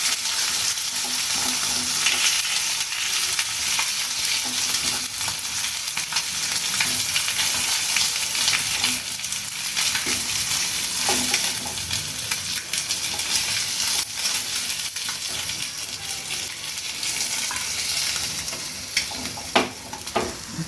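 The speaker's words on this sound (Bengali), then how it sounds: "মাছটা ভাজা হয়ে গেল," Thin rohu fish pieces frying in oil for a simple fish curry, a strong, continuous sizzle with bursts of crackle and stirring scrapes, close and unbroken by talk.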